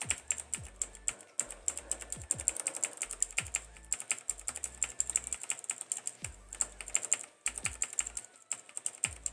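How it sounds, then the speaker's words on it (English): Rapid bursts of computer keyboard typing, close and crisp, with uneven clusters of keystrokes, brief pauses between runs and occasional heavier key thumps, no talking. "apologize if you hear my keyboard"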